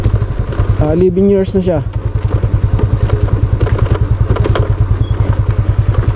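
A stock 2013 motorcycle engine runs close by with a fast, steady, throbbing idle pulse, and someone talks briefly over it near the start.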